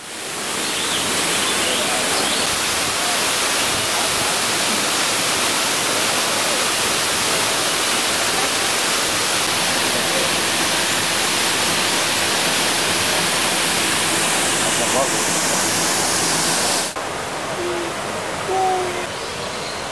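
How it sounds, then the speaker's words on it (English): Dense, steady roar of the world's largest man-made waterfall inside an indoor aviary, loud and continuous broadband rushing water that fills the space for about seventeen seconds before dropping sharply to a quieter hiss. "This is an indoor aviary containing the largest man-made waterfall in the world."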